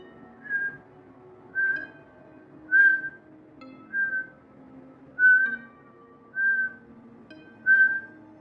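A voice imitates a ghost's slow whistling, seven drawn-out whistled notes at a steady, unhurried pace with short pauses between them, clear and close over a faint background hum.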